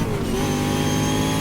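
Race car engine in the GTR2 racing game upshifting to second gear at Circuit Gilles Villeneuve, a loud continuous revving whine with a brief pitch drop as the gear changes.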